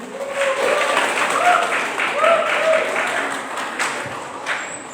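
Audience applause after a participant's turn at a speech contest, a dense, continuous wash of clapping from a crowd lasting throughout, with faint voices beneath.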